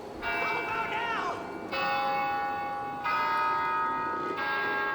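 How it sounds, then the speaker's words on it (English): A church bell tolls in Left 4 Dead 2, four strong strikes spaced about a second and a half apart, each ringing on with a long shimmering decay, heard clearly over faint background ambience. "he'll ring the bell and it'll signal a horde"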